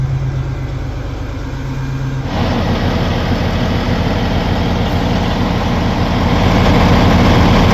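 A CAT 980M wheel loader's diesel engine idles during an exhaust regen test, a loud steady low rumble close by that steps up in intensity partway through and holds firm.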